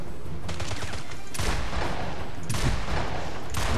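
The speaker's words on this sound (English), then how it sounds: "The shotgun is pretty useless at that range." Shotgun and other gunfire in the video game 007: Blood Stone, with dense, loud bursts of shots in rapid succession, heavy and continuous with brief lulls, and no talk over it.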